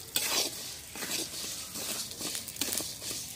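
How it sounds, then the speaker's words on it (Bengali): Moong dal frying in oil in a pan makes a soft sizzle under repeated scraping and stirring strokes of a utensil, fairly close and quiet, with no voices. "এবার একটু মুগের ডালটা ভাজার সময় তেল দিয়ে নিলাম।"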